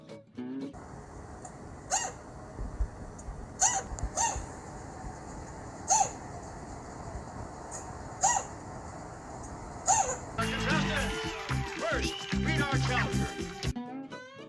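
A chinchilla gives a string of short, sharp hiccups at steady intervals, about six in all, followed by a denser burst of squeaky, scrabbling activity near the end.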